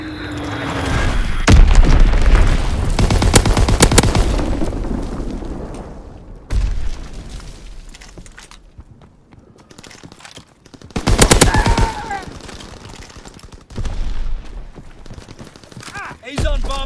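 Call of Duty WWII combat, with bomb explosions and machine gun fire: loud bursts of rapid gunfire and deep booms come in waves, separated by quieter stretches of rumble and distant battle noise.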